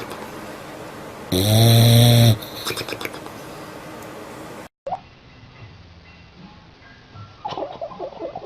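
A dog snores, with a loud, brief, whining nasal tone followed by softer, rougher breathing. After a sudden cut, quieter breaths and faint rustling continue.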